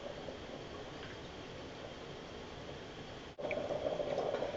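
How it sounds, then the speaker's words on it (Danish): A four-cup stovetop espresso maker bubbles as the coffee finishes brewing, a soft steady gurgle heard close up that grows louder and more sputtering near the end. "Nu står den og bobler, så er kaffen klar."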